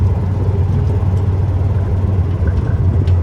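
An old tractor engine runs steadily at low speed beside a ramp of crushed asphalt, a constant deep rumble holding level throughout with no voices.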